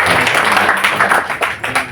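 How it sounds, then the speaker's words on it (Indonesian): An audience at a national gathering in Bali claps steadily for the outgoing President, a dense, close burst of applause lasting about two seconds with no talk. "Mari kita tepuk tangan sekali lagi untuk Presiden."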